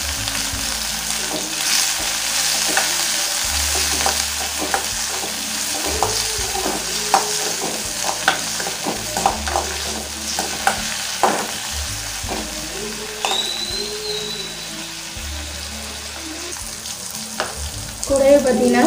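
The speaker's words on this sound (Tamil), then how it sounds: "வெங்காயம் நல்லா வதங்கின பிறகு ஒரே ஒரு தக்காளி கட் பண்ணி வச்சுட்டு அதையும் சேர்த்துக்கோங்க." Onion and tomato sautéing in a pan, a continuous close sizzle broken by repeated scraping strokes of a spatula stirring the mixture, with one clearer clatter near the end.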